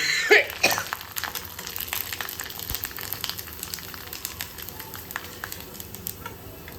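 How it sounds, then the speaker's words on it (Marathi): Chakli fry in hot oil with a constant fine crackle and scattered pops, moderately close. A couple of sharp knocks open the sequence before the bubbling carries on evenly. "इथे आपण ह्या ज्या चकल्या आहेत त्या मस्त अशा तळून घेऊया."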